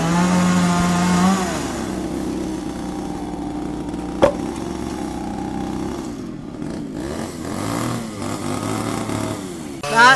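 Chainsaws cutting through a large tree trunk felled by a nighttime storm in the countryside, a steady buzzing drone running throughout with rising and falling pitch, nearby and loud.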